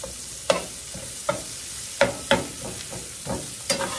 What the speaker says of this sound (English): stir it around in all this. Let that onion kind of get cooked a little bit in there.